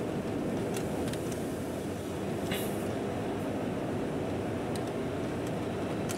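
A train in the video game Chaser starts moving, producing a steady, dense low rumble with faint high clicks and squeals above it. No one speaks.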